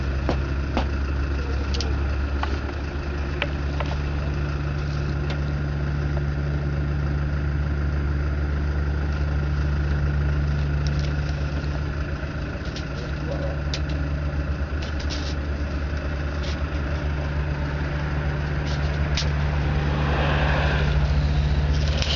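The engine of a homemade monster truck from Dynów idles steadily and loudly for the whole stretch, a constant low rumble with faint rattles on top.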